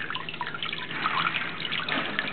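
Water stream flowing from a homemade float valve on a maple syrup evaporator, a steady splashing trickle with dripping, fairly close and continuous, no talk.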